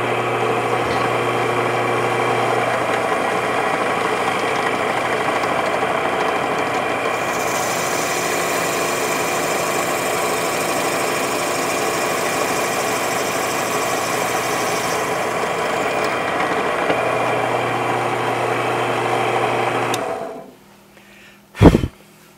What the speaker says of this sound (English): I'll take one of these 3/4 inch balls here and set on there, and we'll drill a hole 3/8 of an inch deep